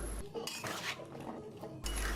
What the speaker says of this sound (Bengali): সাথে পরিমাণ মতো পানি দিয়ে নাড়াচাড়া করে মিশিয়ে নিলাম